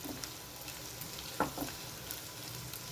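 Green chillies sizzle in hot oil for an amaranth (thotakura) curry, a faint, steady frying hiss with a couple of brief stirring clicks.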